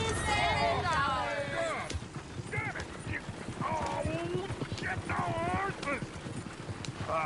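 Horse hooves clip-clop in Red Dead Redemption 2, a rapid stream of hoofbeats with a horse neighing and whinnying several times, mixed with nearby talking voices.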